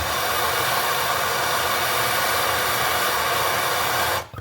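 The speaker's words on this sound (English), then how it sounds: "So before I do anything else, I'm going to give that a blast." Aerosol penetrating oil sprayed onto a 10mm bolt during a front brake disc and pad change on a Volvo XC90: one loud, steady hiss for about four seconds that cuts off abruptly.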